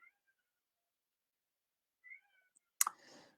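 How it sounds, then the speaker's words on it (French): A small pet cat meowing at a door, wanting to be let in, gives two faint, short meows a couple of seconds apart, followed by a brief louder clatter. "j'ai mon petit chat qui est à la porte et qui miaule"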